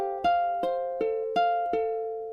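A ukulele is fingerpicked alone, with five clear plucked notes at a steady pace, each ringing and decaying before the next attack, moving from measure 29 into 30 of the piece.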